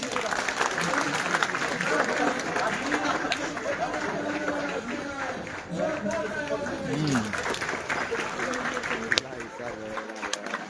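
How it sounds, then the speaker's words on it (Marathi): Loud, sustained applause from a school audience at a Shiv Jayanti celebration, steady clapping with crowd chatter and a voice over it throughout. "सगळ्यांच्या वतीनं आपण जोरदार टाळ्या वाजवल्या पाहिजे."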